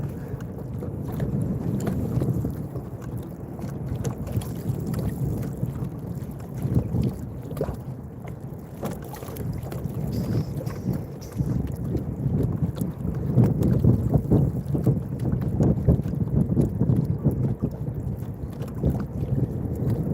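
Wind buffets outdoors at a lake launch during a fishing trip, a steady low rumbling roar with gusty surges, dense and close, and no talking over it.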